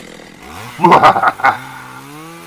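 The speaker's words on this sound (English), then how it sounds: "I'm going to chase those teenagers over there with this chainsaw." A chainsaw revs in a short, loud burst of roughly half a second, a couple of throttle surges, before dropping back to a low idle hum, heard alone in a horror-themed setting.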